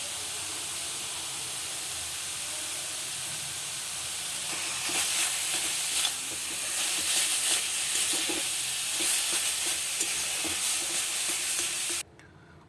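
Beetroot paste with roasted sesame seeds frying in a pan, a steady soft sizzle that grows louder midway as it is stirred, with scraping touches, then cuts off abruptly near the end.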